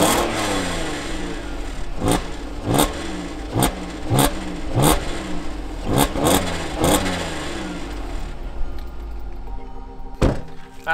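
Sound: stock AWD car engine starting and revving

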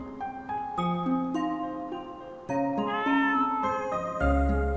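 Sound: cats meowing in the video game Rakuen

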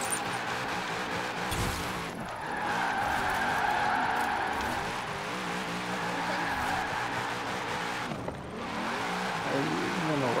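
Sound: car drifting and skidding in video game Forza Horizon 4

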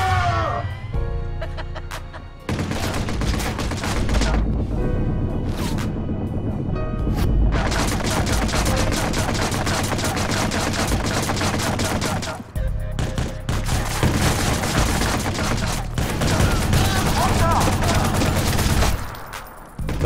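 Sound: bomb explosion and gunfire in the video game Watch Dogs

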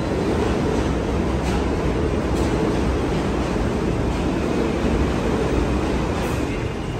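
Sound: New York subway train

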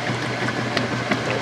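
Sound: water sloshing in belt-drive washing machine during agitation

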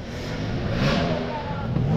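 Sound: enduro motorcycle engine starting and revving

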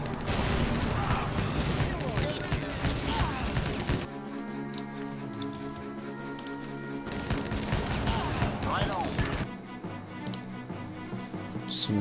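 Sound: gunfire in the video game Blitzkrieg

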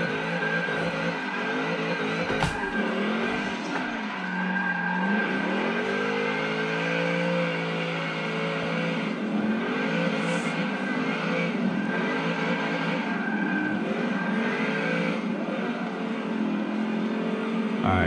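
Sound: race car skidding under handbrake in a racing simulator game

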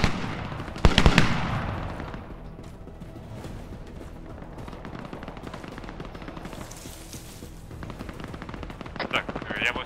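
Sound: gunfire from an enemy in the video game ArmA 3

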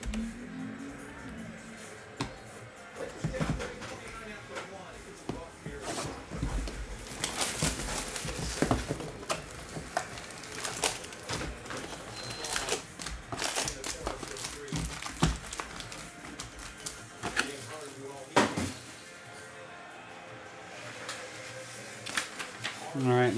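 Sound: printer printing out a list

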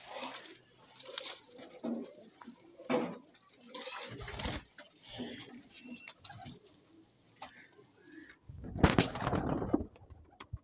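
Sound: pigeons cooing

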